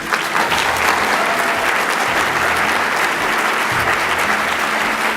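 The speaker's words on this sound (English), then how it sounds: "Thank you for that applause," Sustained, dense applause from an audience at a talk on equality and justice, steady and loud for several seconds with no pauses.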